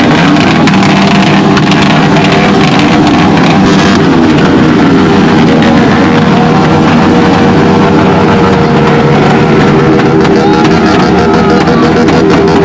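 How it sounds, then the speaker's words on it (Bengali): Motorcycle exhausts roaring loudly and continuously at a crowded Dhaka motor fest bike show, a dense, sustained engine rumble close by with overlapping revs. "কিছু বাইকাররা কিন্তু সেই লেভেলের এক্সজস্ট ফাটাইছে এবং উইলি মেরেছে"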